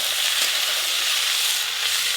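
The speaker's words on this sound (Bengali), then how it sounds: "সবজিগুলো সব একসাথে ভেজে নেব। পুঁই ডাঁটা, আলু, একটু চাপা দিয়ে দিয়ে ভালো করে ভেজে নেব।" Malabar spinach stems and potato fry together in a pan, a loud, close, continuous bright sizzle with no pauses and no talk.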